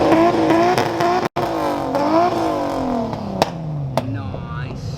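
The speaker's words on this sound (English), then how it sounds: "That Supra was just revving it." A Toyota Supra at an import car show revs loudly in rising and falling swells. Crowd noise and chatter run underneath, and a sharp pop cuts in early on.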